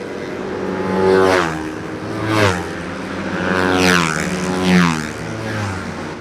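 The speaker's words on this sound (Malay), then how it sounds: "korang akan dengar satu dentuman bunyi enjin motosikal dengan exhaust yang sangat bunyi berdengung, berdesing dalam lintas Sepang" Motorcycle engines and exhausts roar and drone around the Sepang circuit, rising and falling in several loud passes as bikes sweep by, with an echoing, buzzing edge.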